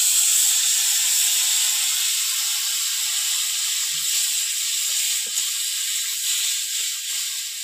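Water hits a hot pan of kohlrabi for a sour mrigal fish curry and sets off a loud, steady hiss of steam and sizzle that slowly eases off, with no voices.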